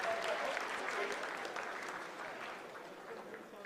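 Applause in mission control during the Chandrayaan-3 lunar landing, a faint, dense patter of many hands that holds steady and then eases slightly, with a thin tone and some background murmur.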